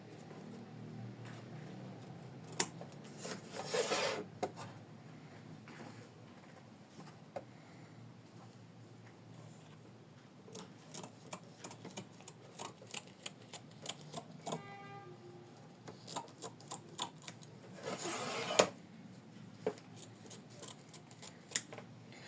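Scissors trim embroidery thread from the front of an in-the-hoop bookmark, giving scattered, quiet snips and small clicks at irregular intervals with no talking.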